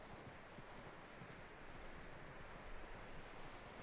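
A skittish horse's hooves clip-clop faintly in Red Dead Redemption 2, a quiet, steady walking rhythm under a windy, hissing outdoor ambience.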